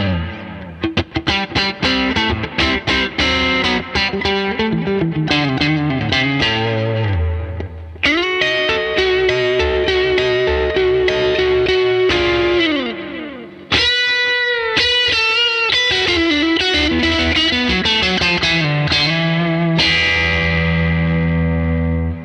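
PJD electric guitar on its neck pickup, played through distortion, chorus and echo effects: busy phrases of bright, sustained notes and chords, with brief pauses between passages and no talking.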